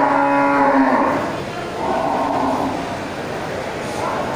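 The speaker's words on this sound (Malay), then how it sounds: "Ya, ini juga sapi Simmental besar ya." Large Simmental cattle at a livestock market low loudly in a long moo at the start, followed by quieter lowing and steady background herd and crowd noise.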